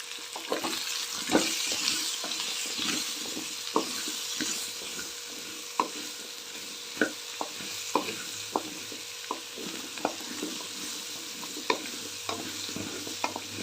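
Masala bottle gourd curry is stirred in a pan, the spoon knocking and scraping in a steady, repeated rhythm over a soft sizzle, close and moderately quiet, with no voices.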